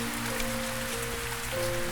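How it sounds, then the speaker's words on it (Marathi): Steady heavy rain pours down, a dense, constant hiss of drops drumming on surfaces with a low hum beneath, no voices. "जोराचा पाऊस सुरू होता"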